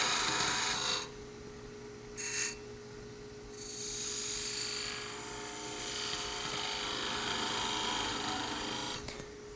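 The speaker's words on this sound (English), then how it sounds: "I'm going to use that same method I did with the skew, long point down, shearing end grain cut, chamfer, slightly undercut here too" A skew chisel with its long point down makes a shearing end-grain cut on a spinning pepper mill blank on a wood lathe, a steady hiss of shaving over the motor hum, with short pauses between passes.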